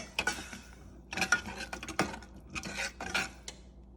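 Metal spoon scraping and clinking against a cooking pot while stirring water into chicken curry, several quick bursts of clatter with short pauses, close and clear.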